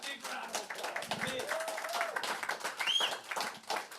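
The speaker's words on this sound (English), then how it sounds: "she deserves a big round of applause" Applause from a small audience at a book and publishing talk, soft and scattered, with voices chatting over it.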